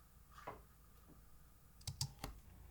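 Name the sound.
computer keyboard keys pressed while editing in DaVinci Resolve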